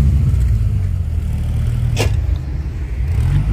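Dodge Viper engine rumbling loudly and steadily nearby at a car gathering, a deep continuous drone with a short sharp burst midway.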